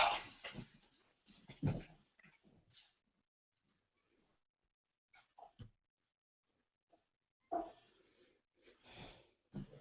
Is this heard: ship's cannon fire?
no